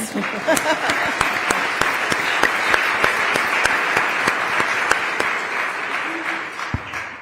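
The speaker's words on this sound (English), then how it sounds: "that does deserve a round of applause" A sustained round of applause fills a room at a Justice Department civil rights commemoration, dense clapping with sharp individual claps standing out, fading slightly near the end.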